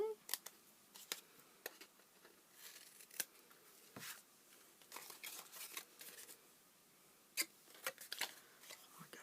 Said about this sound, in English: So just cut that away.